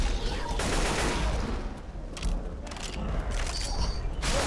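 Sustained gunfire in the video game Left 4 Dead 2, a dense, continuous rattle of rapid shots and mechanical clatter filling the whole stretch.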